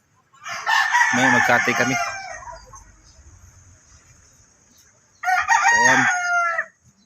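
Two loud rooster crows ring out close by, one after the other with a pause between, while a person speaks briefly in the background.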